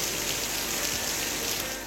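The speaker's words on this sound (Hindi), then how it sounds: "चमचम करती बारिश ने एबटाबाद, हवेलियां और गलियात में एंट्री दी" Steady rain falling over Abbottabad during a monsoon downpour, a continuous broadband hiss of drops on surfaces with no breaks, moderately loud and uniform throughout.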